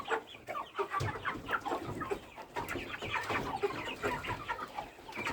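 Broiler chickens in a home coop cluck and chatter steadily, many birds close by making overlapping short calls throughout, with no talk.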